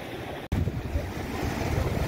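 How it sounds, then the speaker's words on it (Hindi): Rough sea surf at Sandspit Beach in Karachi washes in a steady, broad rush, close and loud, with wind buffeting the microphone and a brief dropout near the start. "क्योंकि समंदर बहुत तेज़ है, काफ़ी तेज़ है"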